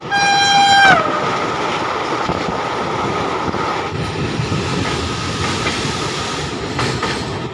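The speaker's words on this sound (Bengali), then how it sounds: "এই যে আমাদের ট্রেন দাঁড়িয়ে আছে" An Amrit Bharat Express train at Malda Town station sounds a loud horn for about a second, then a continuous heavy rumble of rolling wheels and carriage noise, close and dominant.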